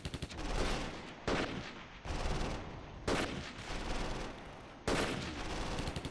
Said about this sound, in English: Let's have the machine gun open fire.